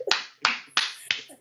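Four sharp, evenly spaced claps sound close and loud, with brief quiet between each, as someone claps for a sister during a casual online live chat.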